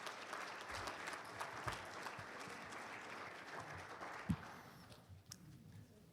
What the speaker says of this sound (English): Give Mike a nice round of applause.